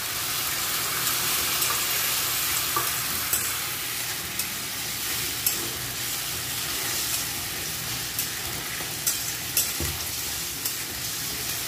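Spice paste for mutton curry sizzles loudly in a hot pan after a splash of water is added, a dense continuous frying hiss with occasional scraping stirs and small pops.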